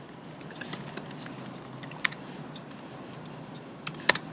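Scattered clicks from a computer keyboard while code is typed for an HTML5 IndexedDB table, irregular soft keystrokes over a quiet room hum with a couple of sharper, louder taps.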